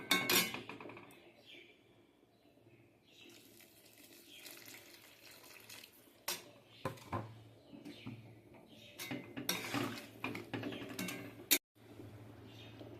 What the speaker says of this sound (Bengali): এবার কিছুটা জল দিয়ে দেবো আলু সেদ্ধ হওয়ার জন্য।